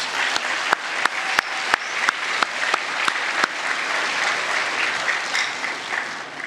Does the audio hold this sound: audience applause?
yes